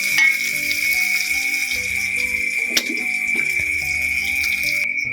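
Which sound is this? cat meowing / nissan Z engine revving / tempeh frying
tempeh frying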